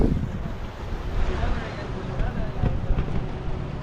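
Strong sea wind blows at Marina beach near the Puduvai boat house, a steady loud roar buffeting the microphone with low rumble throughout, surf faintly mixed in and no talk.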